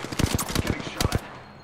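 Rapid automatic gunfire from Apex Legends rattles in a quick burst, a short pause, then a second tight burst, loud and near, with a voice speaking between the shots.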